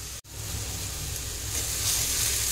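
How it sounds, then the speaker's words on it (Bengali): Jackfruit and spices are stir-fried over a low flame, producing a continuous soft close sizzle with a low hum underneath and a brief dip early on, with no talking. "সবগুলো এবার একসাথে নাড়াচাড়া দেবো। সুন্দর করে লো ফ্লেমে কষে নেব।"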